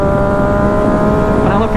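Yamaha MT-09 motorcycle engine accelerating hard, a loud steady droning roar rising slightly under wind noise, with a voice faintly present.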